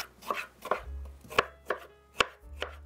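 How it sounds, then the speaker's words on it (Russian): Six crisp, close knife strikes on a board as two tomatoes are chopped into medium cubes, evenly spaced and alone without any voices. "Порежу 2 помидора средними кубиками."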